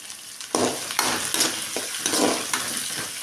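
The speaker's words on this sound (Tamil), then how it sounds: "நல்லா வணக்கி விட்டுக்கலாங்க. நல்லா வேகட்டுங்க." Three large onions sauté with coriander and curry leaves in a pan for a leftover-rice dish, giving a loud, continuous frying hiss with several scraping stir strokes close by and no voices.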